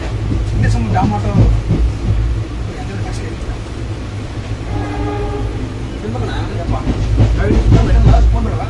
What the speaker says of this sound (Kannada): ಟ್ರೈನ್ ಸೌಂಡು, ಗಾಳಿ